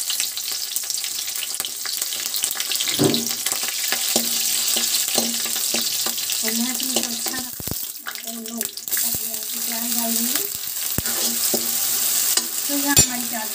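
Continuous bright sizzling of garlic and chillies frying in hot oil, with occasional stirring clatter of a spoon against the pan.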